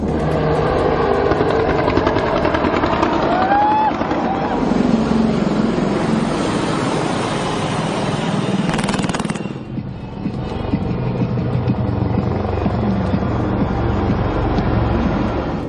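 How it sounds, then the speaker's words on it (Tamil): Indian Air Force jets, including Tejas and Rafale, and Apache helicopters fly at an air show, making a loud, continuous roar of engines and rotors overhead that shifts in tone partway through. "தேஜஸ், ரஃபேல் உள்ளிட்ட விமானங்களும், ஜாகுவார், அப்பாச்சி உள்ளிட்ட ஹெலிகாப்டர்களும் வானில் பல்வேறு சாகசங்களை நிகழ்த்தின."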